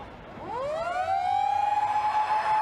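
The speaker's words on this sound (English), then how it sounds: "The siren is gone at Carrara." A single loud stadium full-time siren at a 1997 rugby league match at Carrara rises in pitch, then holds a steady wailing tone, sounding clearly over a faint crowd murmur.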